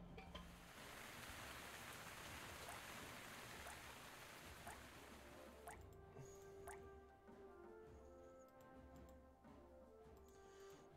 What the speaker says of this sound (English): You guys want some rain?